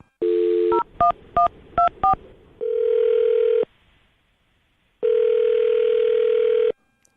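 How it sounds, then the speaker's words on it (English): Phone number being dialed: a short tone, then four quick keypad beeps in a row, followed by two long steady dial-tone-like tones separated by a silent gap, clear and close. "I'm going to dial his phone number right now."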